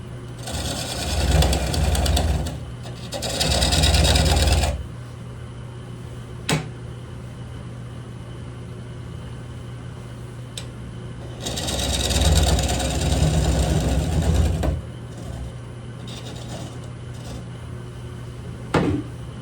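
Carbide-tipped tools cutting wood on a lathe while turning a tenon: two loud grinding cutting passes, then two more, over a constant motor hum, with quiet gaps and small knocks between passes.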